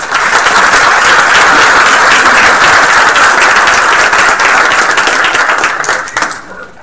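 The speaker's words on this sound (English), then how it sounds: "Let's have another round of applause for Cassie." A large crowd at a board meeting claps steadily and loudly for Cassie, a dense, even wash of applause that holds for several seconds before tapering off near the end.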